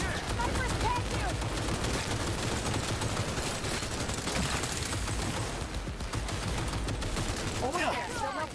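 Sustained heavy gunfire and artillery barrage in the video game Cyberpunk 2077 (Phantom Liberty), dense overlapping bursts and blasts continuing loudly throughout with scattered voices mixed in.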